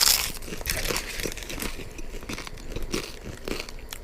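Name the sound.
crunch of biting a taco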